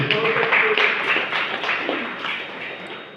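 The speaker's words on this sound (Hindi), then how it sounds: "इसीलिए एक बार ताली बजा दीजिए" Students at a poetry recital at a government engineering college in Raipur applaud, a loud, dense burst of clapping that slowly tapers off, with faint voices in the background.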